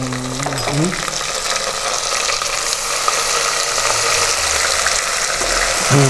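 Steady hiss and crackle of onions browning in a pan, continuous and fairly loud, with faint low murmurs underneath.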